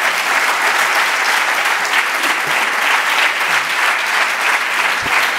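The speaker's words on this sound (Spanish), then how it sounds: "no quiero que me volváis a aplaudir" Loud, sustained applause from a large audience at a housing conference, a steady dense roar of clapping throughout with no gaps.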